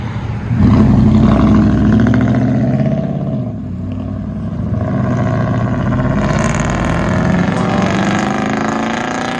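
A car's loud exhaust drones steadily with a deep rumble as it drives, comparing an X-pipe with true dual exhaust, heard alone without talk.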